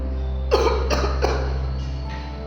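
Three short, harsh dry coughs in quick succession, close by, followed by quiet with a steady low hum.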